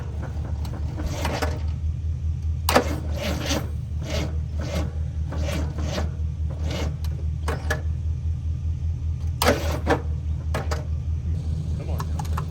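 A Jeep Wagoneer engine sputters and turns over, trying to start after gas is added, under a steady low idle-like rumble with scattered rasping clatters and knocks; a person talks briefly near the vehicle.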